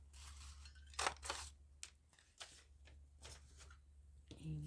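Scissors snipping through paper to cut a circle for an art journal, a series of close, crisp cuts separated by short pauses over a low steady hum.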